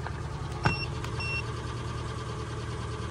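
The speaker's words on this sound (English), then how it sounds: "That motor sounded weird." An Infiniti M37S idles with a low steady rumble, a faint electronic chirp and a small knock briefly rising over the motor's drone.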